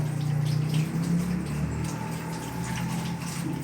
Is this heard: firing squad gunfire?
no